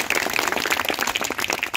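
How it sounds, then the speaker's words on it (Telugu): Audience clapping at a local public event in Madanapalli, a dense, steady patter of many hands sustained at even loudness throughout with no talk over it. "ఒకసారి గట్టిగా క్లాప్స్ ఇవ్వాలని"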